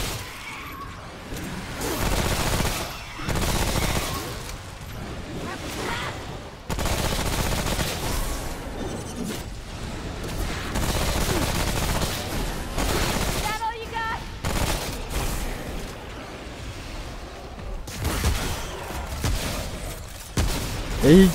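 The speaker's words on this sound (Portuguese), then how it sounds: "Eita, eu dei só um tiro naquele rapaz ali." Rapid bursts of gunfire from the video game Remnant: From the Ashes crackle and rattle over a dense, steady background of action effects, with occasional sharp impacts near the end.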